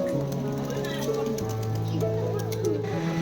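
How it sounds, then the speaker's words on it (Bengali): A flock of pigeons coos nearby, soft continuous low warbling mixed with a steady hum and background voices. "ঝাঁকে ঝাঁকে পায়রা এসে যাচ্ছে"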